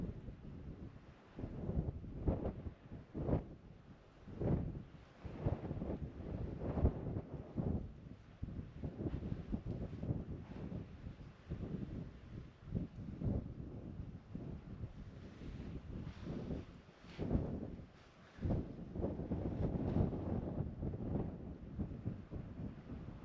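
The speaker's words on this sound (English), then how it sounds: "the wind has really picked up here." Strong gusty wind buffeting the microphone on an exposed mountaintop lookout along an off-road track, roaring in irregular surges and lulls for the whole stretch with no talk.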